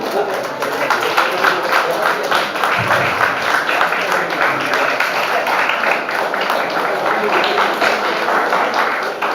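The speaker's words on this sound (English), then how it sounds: "A big round of applause." Conference attendees give a loud, continuous round of applause as a speaker is called to the stage at an international conference, a dense, steady roar of clapping close by with faint voices beneath.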